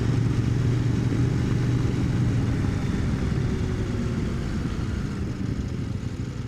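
A big motorcycle on a back-road ride through the Alabama–Georgia–Tennessee tri-state area, engine running steadily up close with a constant low throbbing drone and wind rush, easing slightly toward the end, with no talk.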